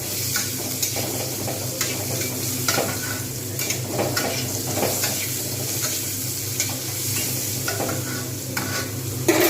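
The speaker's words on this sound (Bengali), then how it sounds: "পেঁয়াজগুলো দিয়ে আমি কিন্তু একটু ভালো করে ভাজবো" Onions frying in a pan for a moong dal with rohu fish head, a loud continuous sizzle under frequent clicks and scrapes of stirring, close by and without speech.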